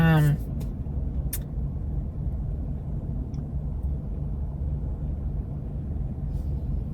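Low continuous road rumble and engine drone heard from inside a moving car, steady and even throughout.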